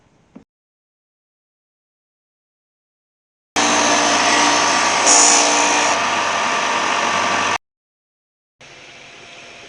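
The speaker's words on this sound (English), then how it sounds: "Alright, let's do some more sanding." A power sander works on small wooden drink coasters in a loud, steady whirring burst lasting about four seconds, then cuts off and restarts more quietly after a pause.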